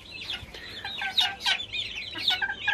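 Hens cluck in a chicken coop fitted with a seven-tier nesting box, soft overlapping clucks and short squawks close by with no talking.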